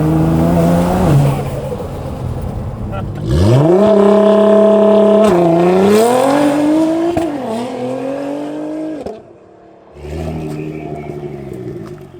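A Nissan R35 GTR engine runs loud and close, revving up in long rising sweeps while driving, with brief gear-change dips and a short lull before it pulls again.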